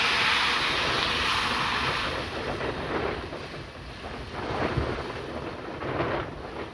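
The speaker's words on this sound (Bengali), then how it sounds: "এবার জল দিয়ে দিচ্ছি।" Water poured into a pot of curry with Malabar spinach and tilapia fish, a steady broad splashing rush that swells and eases over several seconds, heard alone without talk.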